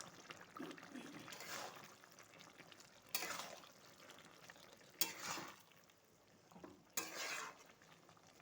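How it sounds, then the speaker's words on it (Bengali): Fried shrimp tossed into a pointed gourd and shrimp curry, a spoon stirring and scraping the pan in a few distinct strokes over a soft sizzle. "এবার দিয়ে দেব ভেজে রাখা চিংড়ি মাছগুলো।"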